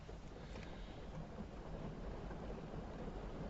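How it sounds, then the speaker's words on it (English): Steady rain falls outside as a dense, continuous hiss with faint low rumbling, fairly quiet and with no voices. "It be raining out there."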